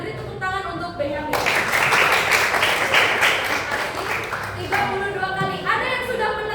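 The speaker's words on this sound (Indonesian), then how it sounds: "Beri tepuk tangan untuk Benyamin" Classroom applause for a student, a burst of many hands clapping together that swells quickly, holds steady for several seconds and then fades as talking resumes underneath.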